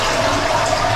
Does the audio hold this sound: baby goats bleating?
no